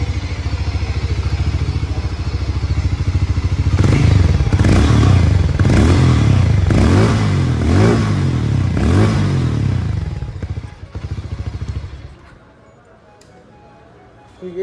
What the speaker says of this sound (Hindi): अब इसको हम थोड़ा रेस करते हैं,